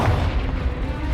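Confringo explosive spell blast in the Hogwarts Legacy video game, heard as a loud, close, sustained booming rumble with a dense low-end thud that fills the whole moment, with no talk over it.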